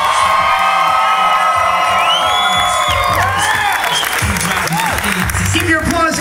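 Wedding guests at a lakeside pavilion reception cheering, whooping and clapping loudly together, an energetic crowd roar with shouts rising over continuous applause and a voice speaking amid it.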